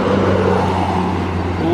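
A heavy bus rumbles past close by on a Sumatran highway with a steady low engine drone and road noise, loud and continuous throughout.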